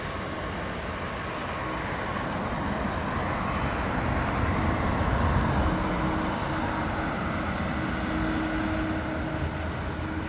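A large jet at London Heathrow Airport produces a broad, steady engine roar that swells slightly and then holds, loud and continuous for the whole stretch with no voices.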